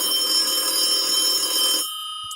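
Telephone ringing, an electronic trilling ring held steady for almost two seconds before cutting off abruptly, loud and close, with no talk.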